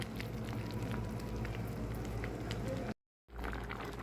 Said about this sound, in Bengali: লাউ দিয়ে লাউটা সিদ্ধ করে নিব ডালের সাথে লাউটা আমি সেদ্ধ করে নিব